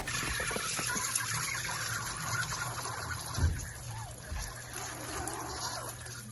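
Water drains from an overhead drum onto garden plants, a steady close trickle and splash that runs continuously throughout with one brief louder gush midway.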